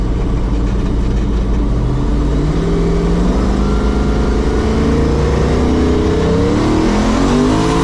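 A 1500-horsepower Chevrolet S10 truck accelerates hard, its loud engine note climbing steadily in pitch through a single long pull with no voices over it.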